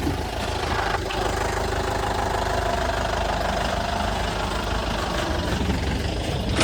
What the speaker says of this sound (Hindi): देखो ये गाड़ी आती है, यही गाड़ी आती है हमारे इस रोड में।